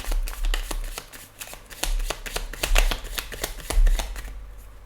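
Tarot cards are shuffled and handled during a reading to draw a card, a quick run of crisp, close flicks and riffles that fades out near the end.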